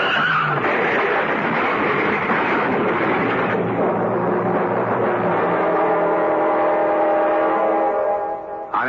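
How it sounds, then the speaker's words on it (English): In a radio drama sound effect, a car skids on a hail-covered road, a loud sustained tire screech lasting several seconds over engine rumble, fading out at the end. "It's skidding."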